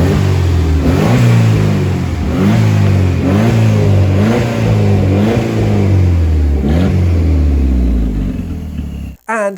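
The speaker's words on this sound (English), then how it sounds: "Here, take a look at Lawrence giving the car a bit of a rev." A Ford Sierra Sapphire RS Cosworth engine is revved close and loud in a series of repeated throttle blips, each rising and falling in pitch, before cutting off abruptly at the end.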